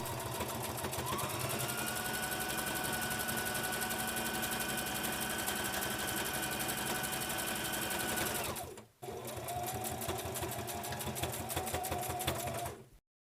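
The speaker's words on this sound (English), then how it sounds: "Sew the edge of the flap to the mask and repeat on both sides" A sewing machine stitches the edge of a fabric flap onto a reversible face mask, a rapid, even mechanical whir running close and loud, pausing briefly near the end before starting again.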